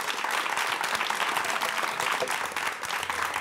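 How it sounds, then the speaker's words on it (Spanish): A studio audience on a Spanish TV show applauds, a dense, even burst of clapping that stays loud and continuous throughout, with no voices over it. "aplaudid, por favor"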